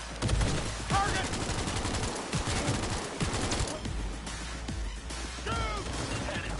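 Rapid gunfire bursts crackle in Cyberpunk 2077 combat, dense overlapping automatic shots with loud impacts, mixed with shouting voices.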